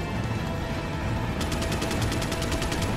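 Minigun fire from the Resident Evil 4 game, a rapid stream of shots starting partway through and rattling on steadily and loudly over a dense background din.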